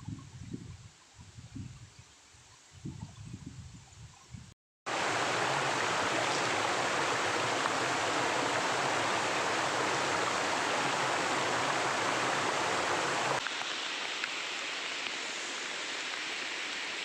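Khajuribani waterfall in a rainforest setting roars with a loud, steady wash of flowing water that fills the scene, preceded by a few seconds of quieter rustling and handling noise.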